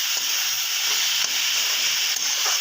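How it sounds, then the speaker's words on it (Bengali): Bandacofi saag greens sizzling in a hot pan while being stirred, a loud, steady frying hiss close up with soft scraping of the ladle coming through at intervals. "ভালো করে নাড়িয়ে চাড়িয়ে"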